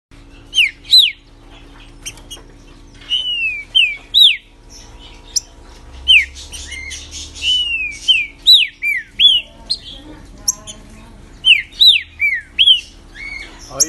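A green-winged saltator (trinca-ferro) kept by a bird breeder sings in bright, rising whistled phrases, repeated in bursts with short pauses, close and clear over a quiet background.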